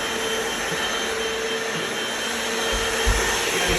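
A Hoover FloorMate Deluxe wet floor vacuum runs in dry mode with a steady, loud motor whine and airy suction hiss, with a few low thumps near the end.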